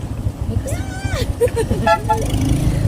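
A car horn honks in short toots amid steady road and engine noise, with people talking nearby.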